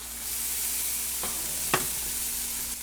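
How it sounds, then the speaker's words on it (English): Jerk Alfredo sauce lands in a hot sauté pan with a steady sizzle, marked by a couple of short scraping stirs. The sound stays moderately loud and close, with no talking. "I'm going to take some of this Alfredo, jerk Alfredo, and add it to the saute pan"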